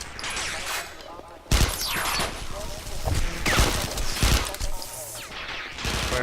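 Rapid bursts of automatic gunfire from the sci-fi shooter Interstellar Marines during multiplayer play, loud repeated volleys with sharp impacts over a noisy background.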